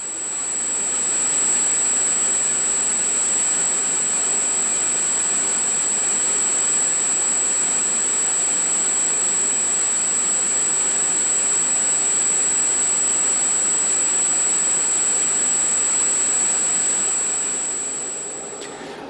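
A ducted fan unit spooling up to speed, a loud, steady whine with a piercing high tone and broadband rushing air that rises quickly, then holds constant for a long stretch before easing slightly at the end.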